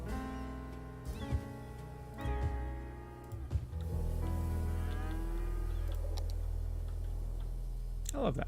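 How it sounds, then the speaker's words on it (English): Cattle lowing in the Cities: Skylines farm game, several long drawn-out moos rising and falling over a steady low hum, with a few sharp ticks early on and a brighter burst at the very end. "Come on, little cows, where are you?"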